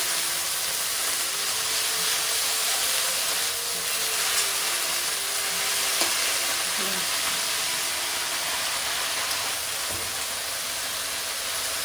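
Mixed leafy greens frying in oil give a steady, continuous hiss and sizzle throughout, with faint clinks and background voices underneath.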